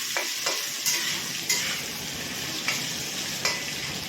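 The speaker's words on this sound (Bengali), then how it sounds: "একটু ঢেকে ঢেকে ভাজতে হবে।" Pieces of rui fish frying in hot oil in a pan, a continuous bright sizzle with several distinct stirring or turning clatters spaced through it, no voices.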